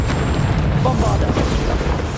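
A Bombarda explosion spell goes off in Hogwarts Legacy, a loud, dense booming blast filling the whole moment with heavy low rumble and rushing debris noise, with a spoken incantation folded into the din.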